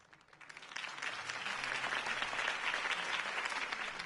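Crowd applause from a political campaign rally in the video game Batman: The Telltale Series, building over the first second into steady, dense clapping that holds at full strength to the end.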